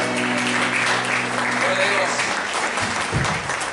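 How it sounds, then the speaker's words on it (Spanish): Church congregation applauding during a Pentecostal evening service, a steady, dense wash of clapping from a large crowd, loud and continuous, with voices and a brief shout mixed in near the end. "Fuerte aplauso a Jesús."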